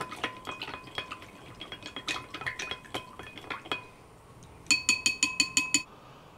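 Spoon stirring a soy sauce, light sugar and water mixture in a bowl, a run of quick clinking taps that ends in a fast, even burst of bright ringing strikes.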